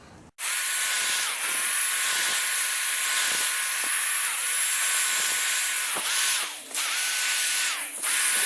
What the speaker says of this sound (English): I need to wire wheel this prop shaft down.